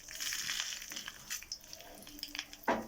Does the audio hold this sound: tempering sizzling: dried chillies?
yes